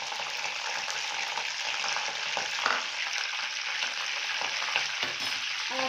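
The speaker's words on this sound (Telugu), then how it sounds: "ఇప్పుడు నేను ఇందులో నుంచి చికెన్ మాత్రమే తీసి ఫ్రై చేస్తున్నాను" Chicken frying in oil with garam masala and green chilies, a steady close sizzle running throughout with faint stirring scrapes.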